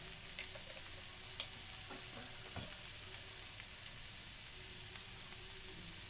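Potato curry sizzling softly in a pan while being stirred with turmeric, chilli powder and salt, a faint steady fry broken by two brief scrapes of the spoon, no voices.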